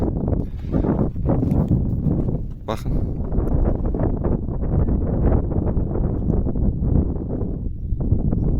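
Strong wind buffets a microphone on a highland plateau, producing a steady low rumbling roar with gusty fluctuations throughout.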